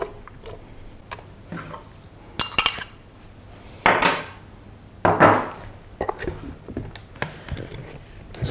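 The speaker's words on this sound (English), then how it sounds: "you might want to chop your bananas a little bit finer than what I am doing right now" A knife chops bananas on a board, sparse irregular sharp taps and knocks of blade on wood, close and clear with quiet gaps between strokes and no talking.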